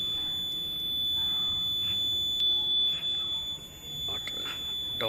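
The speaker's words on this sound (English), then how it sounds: "level 1, level 2, level 3 buzzer indication" A buzzer on a school-project water-level alarm model for an overflowing tank sounds as one steady, piercing electronic tone that holds unbroken for the whole stretch, with faint background voices underneath.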